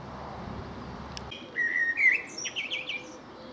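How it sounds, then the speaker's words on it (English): A blackbird sings in a countryside setting on the downs, a few clear fluting phrases starting after a soft rustle, moderately near above faint background. "That's about the first songbird I've heard today. Blackbird."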